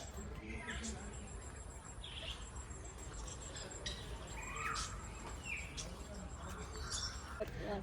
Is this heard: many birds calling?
yes